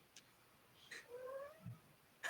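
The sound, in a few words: cat being chased off in the video game School of the Stars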